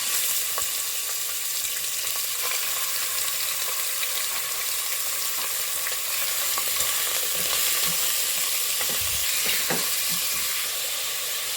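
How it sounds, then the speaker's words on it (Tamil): Mutton sizzles steadily in a little oil in a pan for green mutton gravy, a dense, even frying hiss with occasional faint stirring clicks and pops, close and continuous with no talking. "கொஞ்சமாக எண்ணெய் ஊற்றிருக்கேன். இந்த மட்டன் எல்லாம் இதில் போட்டுடலாம்."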